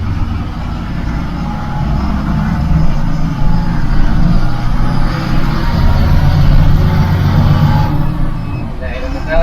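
A 12 m Ashok Leyland Leera model bus with sliding glass windows drones along with a steady low engine rumble, heard from inside while someone talks over it.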